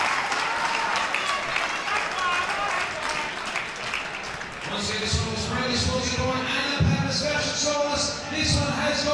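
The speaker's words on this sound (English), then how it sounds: "Big round of applause and ovation to both young fighters." Crowd applause and cheering at an amateur boxing event for two young fighters, sustained clapping that swells louder partway through, with an announcer's voice over the noise.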